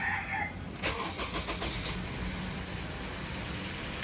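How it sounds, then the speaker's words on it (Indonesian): A third-generation Honda CR-V engine cranks and catches with a short burst of ignition sounds, then idles briefly. Steady background noise continues throughout, with no talk. "Kita hidupkan mesinnya kurang lebih 2 detik aja."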